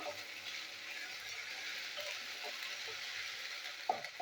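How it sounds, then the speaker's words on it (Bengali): Ginger-garlic paste with green chillies frying in a pan, a soft steady sizzle running throughout at low level, with faint stirring clicks near the end. "আদা রসুনের পেস্ট আমার ভাজা হয়ে গেছে"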